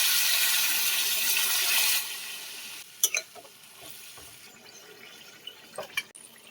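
Water goes into a pot of prawn and banana flower curry as a loud, rushing pour for about two seconds, followed by quieter sizzling and a few scattered drips and clinks.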